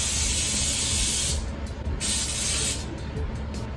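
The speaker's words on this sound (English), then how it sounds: "I'm just gonna line this with some cooking spray so that it doesn't all stick to it" An aerosol can of cooking spray hisses in a long steady spray into a baking pan, then stops, followed by a second shorter burst and faint clatter, close by.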